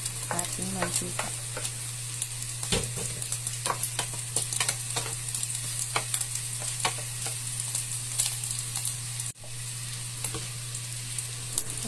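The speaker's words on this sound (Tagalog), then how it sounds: "Magisa natin dito ang bawang at sibuyas pag mainit na ang ating mantika." Garlic and onion sizzle steadily in hot cooking oil in a pan, close and continuous, with repeated scraping stirs of a utensil over a low hum.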